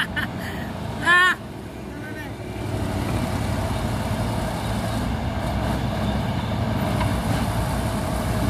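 A Fuso truck rumbles past on a road, a steady broad engine and tire roar building from about three seconds and holding to the end, with brief shouted voices and a horn-like tone early on.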